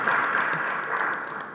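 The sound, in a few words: audience applause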